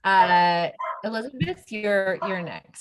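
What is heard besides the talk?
dog barking in home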